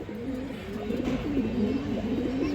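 Pigeons cooing close by, a series of soft, low, rolling coos that follow one another with no break, with no talking over them.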